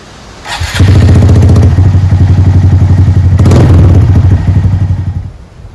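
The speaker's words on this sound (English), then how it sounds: "I'm gonna start it up and let it sit for about 5 to 10 minutes" A Honda Monkey motorcycle engine starts with a clatter and settles into a loud, close, steady idle with a fast thumping exhaust pulse, then cuts off near the end.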